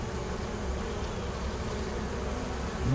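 Honey bees hum in a dense, steady drone around hives being combined for winter, close and constant throughout with no talking.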